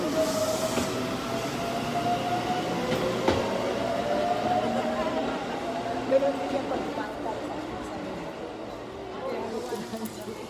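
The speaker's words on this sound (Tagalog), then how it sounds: "The train." Train passing close by with a continuous loud rumble and rail noise, faint squealing tones rising and falling, and steady clatter throughout.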